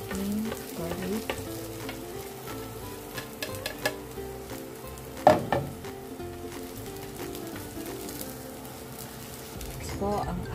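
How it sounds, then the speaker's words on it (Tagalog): Onion and garlic fry in a frying pan with a soft, continuous sizzle, broken by light stirring scrapes and one sharp clatter midway. "Ito na po ang ating frying pan. Unahin ko po ang sibuyas."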